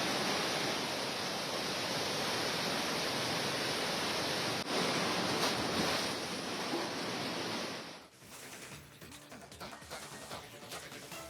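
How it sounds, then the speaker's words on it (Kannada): Floodwater rushes in a steady, loud broadband roar that fills the first eight seconds, then cuts away to quieter, uneven background sound. "ನೋಡ್ತಾ ಇದ್ದಂತೆ ಹೆಚ್ಚಿನ ಪ್ರಮಾಣದಲ್ಲಿ ನೀರು ಹರಿದು ಬಂದು ಮನೆಗಳು, ಶಾಲೆಗಳು ಎಲ್ಲ ಕಡೆನೂ ನೀರು ನುಗ್ಗಿದೆ"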